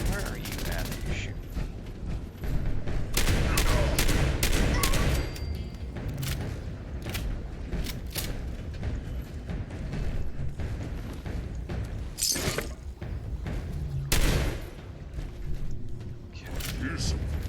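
Gunfire in the video game Fallout 76 comes in clustered bursts of sharp, close shots, with heavy volleys early and isolated cracks later, plus a few booming impacts, while players talk in between.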